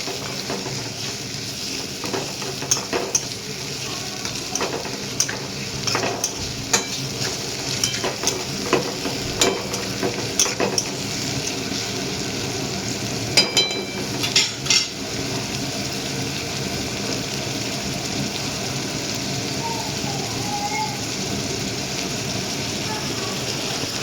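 Tomatoes added to onions sizzle and fry in a pan, with soft stirring and occasional clinks of a spoon against the pan running steadily throughout.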